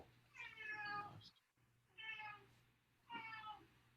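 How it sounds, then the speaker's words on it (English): A pet cat meows three times indoors, each call drawn out and separated by short pauses, faint against a low steady hum with no talking. "My cat's being loud."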